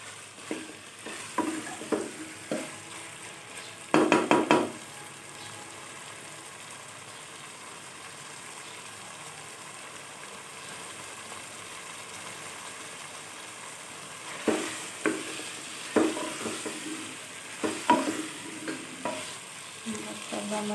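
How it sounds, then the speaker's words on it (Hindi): Green peas frying with minced beef in a pan give a low, steady sizzle, with a few bursts of stirring and scraping near the start and again toward the end. "अब हम लोग 2 मिनट तक मटर को इसके अंदर पीने के साथ भून लेते हैं।"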